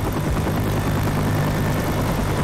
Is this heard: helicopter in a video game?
yes